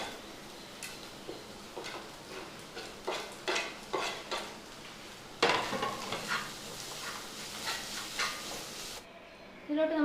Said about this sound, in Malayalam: നമ്മൾ പൊടിച്ചു വെച്ചേക്കുന്ന ബീഫിനെ ഇട്ട് കൊടുക്കാം.